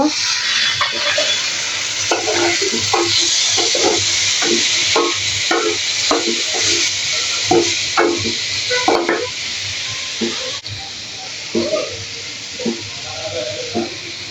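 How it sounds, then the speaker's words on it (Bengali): Fried cabbage with boiled potato is stirred in a sizzling pan, with a continuous close frying hiss and a regular run of scraping stir strokes throughout. "আমার কফিটা এখানে ভাজা হয়ে গেছে এবং সুসিদ্ধ হয়ে গেছে। এখন আমি এখানে সিদ্ধ আলুটা দিয়ে দিব।"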